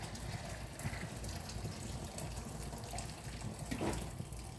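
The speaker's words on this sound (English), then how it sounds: "So we're gonna just trap with the top, pour the juice out." Hot shrimp cooking liquid poured out of a pot held back with its lid, a continuous splashing trickle into a sink with a brief gurgle near the end, fairly quiet.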